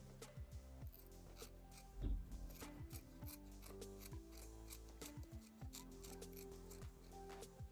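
Repeated snips and rubbing cuts of blunt scissors cutting material for a hair bow, uneven and a little effortful, close by and fairly quiet, with no talking.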